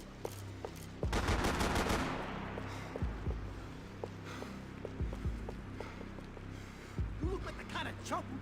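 Gunfire in Max Payne 3 rings out in loud, repeated bursts, a dense volley early on followed by single shots roughly every two seconds, with some background game sound between them.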